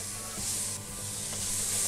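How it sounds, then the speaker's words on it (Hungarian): Chopped red onion sizzling in a little bacon fat with butter in a pan, a steady close hiss that swells slightly, with no talking. "Kis zsírbe beletesszük a hagymát."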